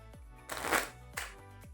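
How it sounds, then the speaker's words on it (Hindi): A deck of playing cards is shuffled by hand, with two short riffling bursts close to the mic amid quiet, soft handling sounds. "मैं डेक को शफल कर देता हूँ और अच्छे तरीके से शफल कर देता हूँ"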